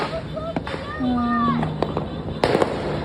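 Christmas Eve fireworks bang and crackle in the distance, with a rising whistle and a sharp burst near the end, while people talk nearby.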